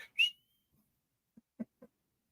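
A referee's whistle sounds at a football coin toss: one short, sharp, fairly loud blast, followed by a few faint low thumps and rustles in otherwise quiet surroundings.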